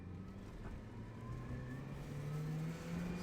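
A turbocharged MazdaSpeed Miata with 200,000 miles accelerates hard, its engine note climbing steadily in pitch as the revs build, heard from inside the car at moderate volume.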